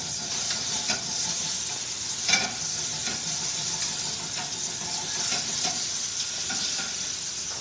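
Food blisters in a hot pan with a continuous bright sizzle and hiss, broken by scattered pops and scraping sounds as it is stirred.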